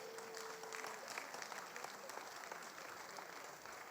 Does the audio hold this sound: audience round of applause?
yes